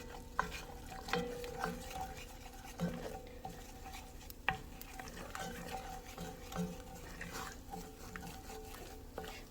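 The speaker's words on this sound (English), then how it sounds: "So let that cook down a little bit because you don't want it to taste like flour" Flour paste cooking and being stirred in a pan on the stove, with soft scraping and stirring strokes, a faint sizzle and occasional utensil clinks against the pan, close and fairly quiet, no talking.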